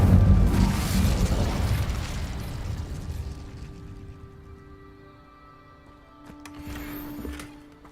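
Incendium fire spell cast in Hogwarts Legacy, a heavy whooshing blast that swells loud at the start and rumbles away over several seconds, followed by a smaller flare near the end with no talk.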